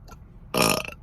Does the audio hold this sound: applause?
no